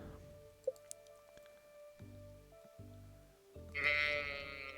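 A sheep bleating in the farming video game Stardew Valley, one loud wavering bleat near the end after quiet game chimes and soft clicks, with no talk.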